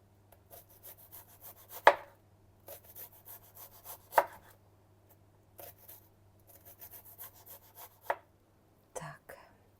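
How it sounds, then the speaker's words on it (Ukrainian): A knife thinly slices an onion on a board in quick, rhythmic strokes, with a few sharper knocks as the blade hits wood. "Дуже тоненько нарізаю цибульку."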